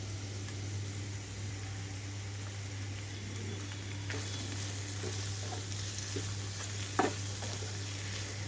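Broad bean fry with ground dried chili and coconut spice is stirred in a pan, a soft steady sizzle with occasional scraping taps of the spoon and a faint constant hum beneath.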